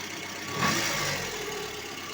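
A VAZ 21083 engine running on gas idles steadily and evenly, with a brief swell in loudness early on before settling back to a constant close hum.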